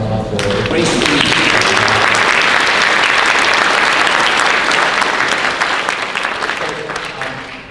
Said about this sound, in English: Let's give them another round of applause for a great speech.